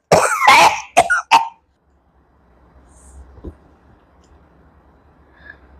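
A woman's harsh coughing fit, three sharp coughs close up, followed by near silence with a faint click and a soft throat sound.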